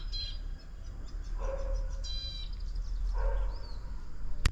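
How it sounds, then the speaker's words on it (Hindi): A tiny bird in a spring kitchen garden with cherry tomato plants chirps in a few short, high calls over steady low background hum, fairly faint and distant. "वो नन्ही सी चिड़िया"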